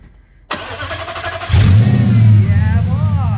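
An abandoned Audi S5 under rebuild cranks and fires up, its engine catching with a loud surge and then revving strongly and steadily close by, after a quiet start.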